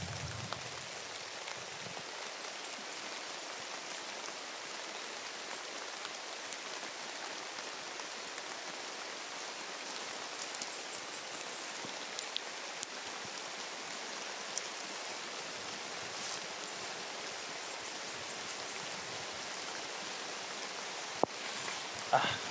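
Steady rain hisses continuously, a dense even wash of falling drops with a few louder splashes near the end.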